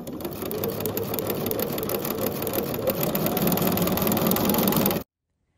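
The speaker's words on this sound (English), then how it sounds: "so I sewed all of the right side of my blocks" A sewing machine chain-piecing quilt blocks runs in a steady, continuous mechanical whir for about five seconds, close and fairly loud, then stops abruptly into silence.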